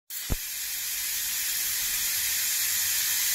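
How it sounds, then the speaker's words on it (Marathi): A pressure cooker cooking rice on a gas stove lets out a loud, continuous steam hiss that starts abruptly and holds steady, with a brief thump near the start. "आता कुकरला झाकण लावून याच्या 2 शिट्ट्या करायच्या आहेत."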